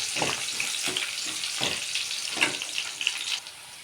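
Green chillies fry in hot oil for chilli chicken, a steady close sizzle broken by a few louder crackles and stirring scrapes, with no talking.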